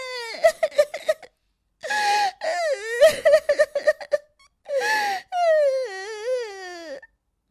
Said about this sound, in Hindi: इस जंगल में भला किसी के रोने की आवाज?